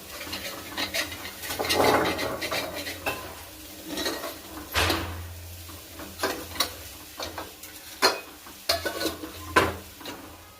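Pav bhaji masala with turmeric is stirred and sautéed in a pan, with repeated spatula scrapes and clinks against metal over a soft sizzle. The knocks come in irregular bursts, close and clear.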